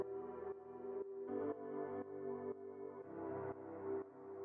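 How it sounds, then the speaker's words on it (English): Ableton's grand piano playing a chord progression in a textured electronic track, roughly one soft chord every half second, moderately quiet and heard alone. "Basically what I did was I took Ableton's grand piano"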